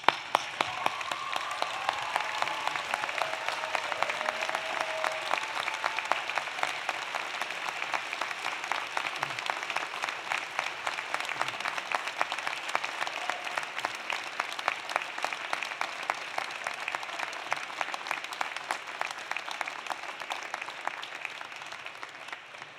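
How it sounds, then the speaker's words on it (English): Sustained applause from a large university convocation audience at a fall graduation ceremony, dense steady clapping that fills the hall for over twenty seconds and slowly thins toward the end. "stand up and give them a huge round of applause."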